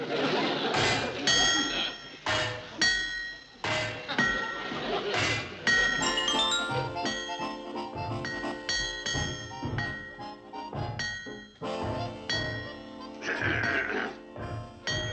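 Repeated metallic clangs and ringing dings from whacking metal locomotive parts, irregularly spaced, struck close by with lingering metallic resonance between hits.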